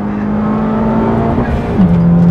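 A Honda Civic Type R turbo engine revs hard on a race track, a loud, steady, close drone that holds its pitch and then drops slightly near the end, with no talk over it.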